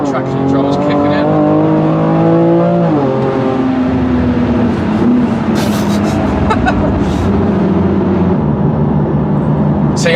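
A BMW M2 Competition accelerates hard, its engine note climbing through the gears in loud, continuous strain with brief tire chatter as traction control intervenes, heard from inside the car.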